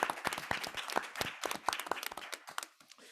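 An audience at a public policy event on immigrant integration applauds for a speaker, dense close clapping that thins out toward the end.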